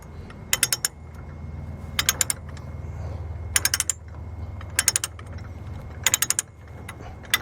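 Durabilt ratchet chain binder being ratcheted loose on a chain, with crisp bursts of three or four rapid metallic clicks repeating every second or so, close by over a low background hum.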